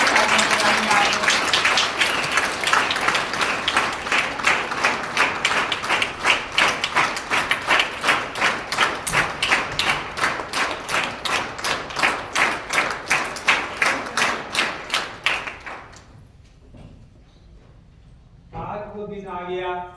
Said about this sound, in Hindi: आप सबके लिए अपनी तालियां बजाइए